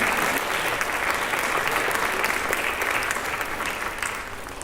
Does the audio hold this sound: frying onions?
no